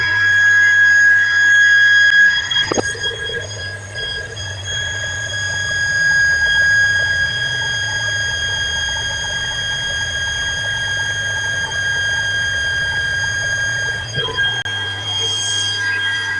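A newly replaced household water pump station runs steadily with a constant low hum and high whine after the water is switched on. A louder start comes in the first couple of seconds, then the running holds with little change and no talk.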